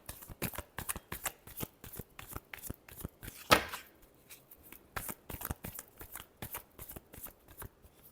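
Tarot cards are shuffled by hand in a rapid series of riffling bursts with one louder riffle near the middle, close and crisp against quiet surroundings.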